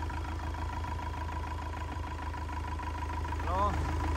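A Yanmar 4TNV98 diesel engine idles with a steady, even low rumble and a constant mid-pitched hum, and a brief rising whine near the end.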